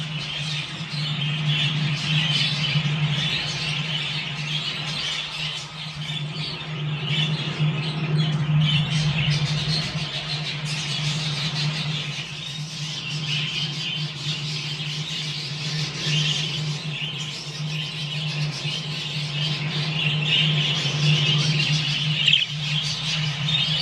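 Exhibition budgerigars keep up a continuous, busy twittering and chattering at moderate volume, with a low steady hum in the background throughout.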